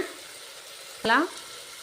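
Tomatoes sizzle in a hot pan for tomato rice, a continuous close frying hiss broken near the middle by one brief high squeaky chirp.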